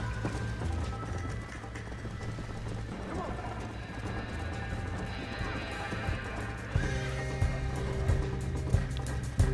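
Horse in Red Dead Redemption, with hooves clip-clopping in a steady rhythm under game sounds and a mechanical background hum, a neigh audible among them, moderately loud throughout.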